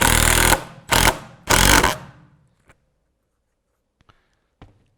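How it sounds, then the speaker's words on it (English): Cordless impact driver driving a screw into wood, three loud close bursts of rapid hammering impacts, each lasting about half a second, followed by a few faint clicks and near silence. "that was the hammering sound that comes in after it reaches a certain level of torque"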